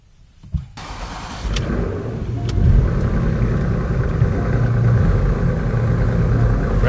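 A Porsche Panamera engine starts with a sharp crank and catches, then settles into a steady, loud, close idle with a low rumble, on a trip to Las Vegas.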